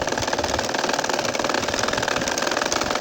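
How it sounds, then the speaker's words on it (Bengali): A domestic sewing machine stitching a baby kantha quilt, running in one continuous fast, even rhythmic chatter, loud and close. "একইভাবে আমাদের সম্পূর্ণ কাঁথাটা সেলাই করে যেতে হবে।"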